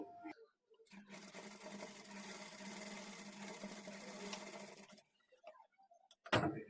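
A sewing machine stitches the front part of a blouse in one continuous run of about four seconds, a close, quiet whirring rattle that then stops, leaving near silence and a soft knock.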